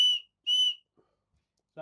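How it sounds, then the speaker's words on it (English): Two short, shrill blasts from a small whistle built into a survival watch buckle, blown gently and close, with a brief faint rustle after and a voice starting at the end. "That was just a very gentle blow on that"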